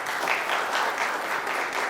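Steady applause from an audience at a student radio event, a dense even wash of many hands clapping that holds for about two seconds with no voices standing out.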